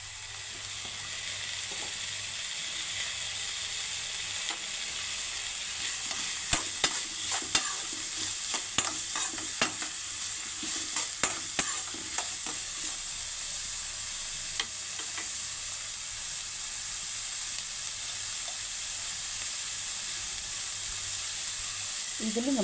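Chopped onions and a small carrot frying in oil in a pan for egg and vegetable noodles, a steady close sizzle with occasional stirring scrapes, no talking.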